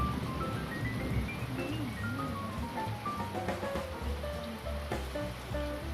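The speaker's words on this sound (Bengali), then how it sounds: "এখনও ঝমঝম করে বৃষ্টি পড়েই চলেছে।" Heavy rain falls in a steady, continuous patter, with tonal music or chime-like melodic sounds layered over the downpour throughout.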